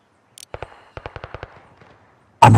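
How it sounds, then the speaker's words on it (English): Gunfire aimed at the player in a video game: two quick shots, then a rapid burst of about six sharp rounds in clean silence, followed by a loud blast at the end. "They're shooting at me"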